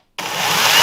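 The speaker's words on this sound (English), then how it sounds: "I pull back and start the chainsaw." A Hyundai HY2190 20V cordless battery chainsaw starts abruptly after a moment of silence, then runs with a steady, loud, close electric whine and buzz that builds slightly and holds.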